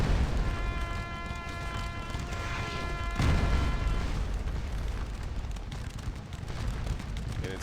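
Artillery guns firing in the Napoleonic battle game Scourge of War: Waterloo at Ligny, with a heavy boom midway amid continuous rumbling battle noise and a sustained tonal drone.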